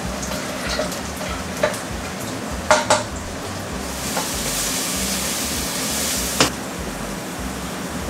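Steady oil sizzle of about 300 grams of peanuts frying in a pan on a home stove, with sharp metallic clinks of a utensil against the pan scattered throughout, close and loud with no talking.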